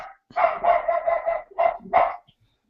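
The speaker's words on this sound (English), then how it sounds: "I really don't know what she's barking at." A dog barks close by in a quick series, about five sharp barks with short pauses between.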